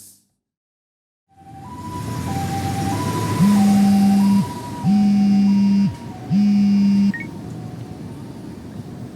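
Ambulance siren in the video game Lost Judgment, starting after a moment of silence as an alternating two-tone wail over engine rumble, joined by three long, loud horn-like blasts, steady and close with no talking.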